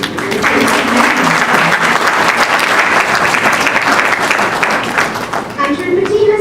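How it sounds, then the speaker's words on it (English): Birthday applause for a 95-year-old woman at a Hanuman Jayanti community celebration, a full, loud round of clapping from the gathered audience that holds steady and starts to thin toward the end. "Please join me in a round of applause"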